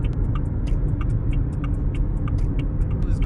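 A 2022 Haval Jolion on the road, with a steady low engine and tyre rumble inside the cabin and a regular ticking, like an indicator, clicking over it.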